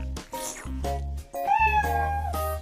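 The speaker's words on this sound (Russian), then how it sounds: "Теперь он мяучит так громко!" A kitten meows loudly and repeatedly, with several drawn-out, rising cries in a row, close and clear with no talking over it.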